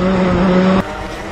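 Race car at a racing track, a loud, close, sustained engine drone with a steady pitch that cuts off abruptly, leaving a quieter background.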